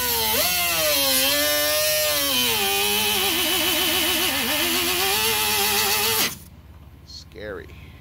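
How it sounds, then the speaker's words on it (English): A high-speed air-powered cutoff wheel cuts into the dash panel of a 1994–96 Impala SS. It makes a loud, continuous whine that wavers in pitch, then stops abruptly, leaving a quiet room with brief faint sounds. "he's actually going to do it using his high speed air compressor and his cutoff wheel"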